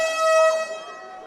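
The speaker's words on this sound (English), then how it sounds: "The air horn you hear means we've got 50 to go" A single sustained air horn blast at a boys' high school swimming sectional, signalling 50 to go in the 500, sounds bright and loud, then fades into a reverberant pool hall.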